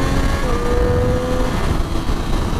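A Triumph 765 Daytona Moto2 motorcycle with a low-slung Arrow exhaust runs loud and close, its engine droning and holding a steady pitch without speech.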